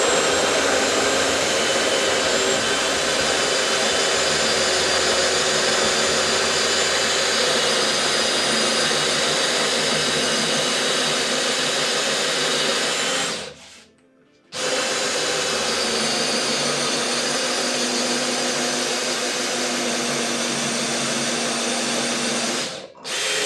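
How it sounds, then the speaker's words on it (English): A power drill boring a 1.5 inch hole in wood, a loud, steady whine that runs continuously, cuts out briefly partway through, then resumes before stopping near the end. "so we've drilled now our first hole"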